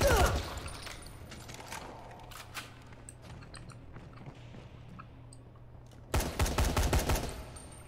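Automatic rifle fire in Dying Light comes as a short burst of rapid gunshots early on, then a longer loud burst near the end. Quieter game sounds and occasional speech fill the stretch in between.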